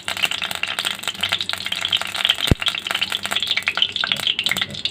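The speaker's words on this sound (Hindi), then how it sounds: "ये देखिए तेल गर्म हो रहा है।" Cooking oil heating in a pan before frying taro-leaf pakoras, a steady bright sizzle and crackle with scattered pops and one sharp knock midway, loud and close.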